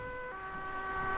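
An ambulance siren wails steadily in the Crash Time 4 driving game, a sustained electronic tone that shifts pitch partway through over a low engine hum.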